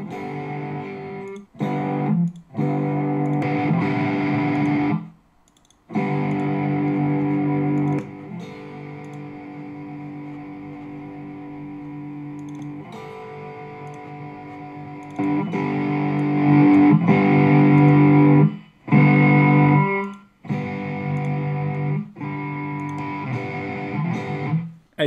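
Saturated electric guitar tone played through a NAM neural amp modeling plugin via an audio interface, full and heavily distorted, in sustained chord phrases broken by several short gaps, loud and alone.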